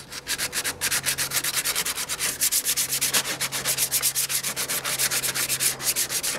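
Steady hand sanding on a motorcycle part during a Benelli and Ducati track bike restoration, a rapid back-and-forth scratching rhythm of even strokes that runs continuously, close and fairly loud, with no talking.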